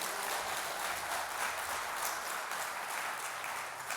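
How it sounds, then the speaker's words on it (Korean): A church congregation at a district elders' worship service claps in welcome, a steady wash of many hands from a distance for a few seconds. "우리 성도님들께서 한번 환영의 박수 한번 해주시죠"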